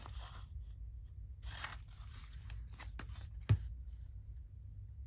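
Scissors snip and crunch through fabric as a pocket is cut out. The cuts come in faint, close bursts with a few sharper clicks.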